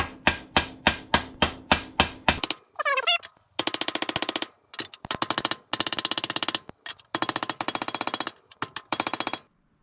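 Brass bar tapping a metal part down onto a welding table: rapid bursts of sharp metallic taps in quick clusters, fairly close and loud, separated by short pauses, with no talk.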